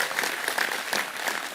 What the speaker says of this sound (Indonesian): tepuk tangan untuk Bapak-bapak semua yang hadir